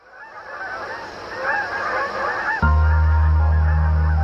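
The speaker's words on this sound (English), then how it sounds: "we wanted to offer you a guide to the Canada goose, a symbol of this great country, and as you'll hear, really annoying" Canada geese honk repeatedly outdoors, a fairly loud flurry of overlapping calls that builds toward the end before cutting off abruptly under a loud steady tone.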